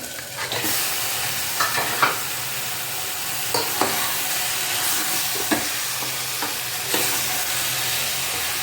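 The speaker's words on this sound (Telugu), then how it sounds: "½ కేజీ చికెన్ వేస్తుండే దీంట్లో." Half a kilo of chicken fries in a hot pan, a constant loud sizzle broken by repeated scraping clatters as it is stirred, with no talking.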